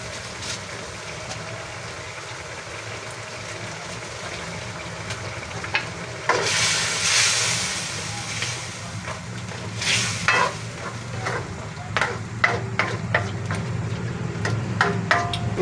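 Alamang shrimp paste sautéing in a pan while cooking vegetables with coconut milk, a steady low sizzle broken by sharp scraping stir strokes and utensil clinks that grow busier toward the end.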